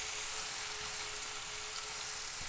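Finely chopped onions fry in oil for chicken kababs, giving a steady, even sizzle with a bright hiss that holds without a break and has no talk over it.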